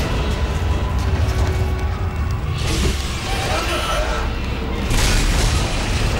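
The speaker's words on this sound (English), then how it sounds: "This is a very useful gun." Weapon fire in the sci-fi horror game Dead Space 2, heavy booming bursts and mechanical clanks running continuously over a dense, loud, roaring background, with a person talking at times.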